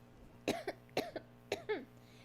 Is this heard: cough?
yes